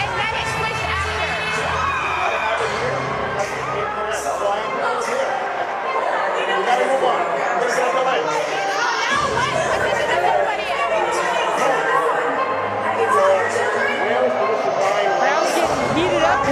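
A crowd at the Barry Center grows heated during a LOVB Houston vs LOVB Austin pro volleyball match, with a steady roar of chatter and shouting throughout and commentators talking over it.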